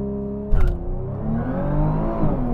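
A Nissan GT-R NISMO launches hard from a standstill, a sharp burst at the start giving way to a loud, rising engine roar as it pulls through the gears, heard up close with no talking.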